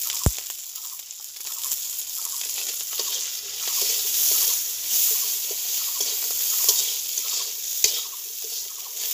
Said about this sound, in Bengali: চিংড়ি আমার ভাজা হয়ে গেছে এবার আমি তুলে নেব